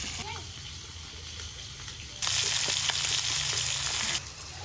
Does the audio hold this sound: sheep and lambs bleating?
no